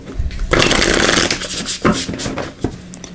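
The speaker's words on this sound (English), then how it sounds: "so let's give these a good shuffle" Oracle cards are shuffled by hand in quick riffling, rustling bursts, close and fairly loud, with short pauses and soft taps between passes.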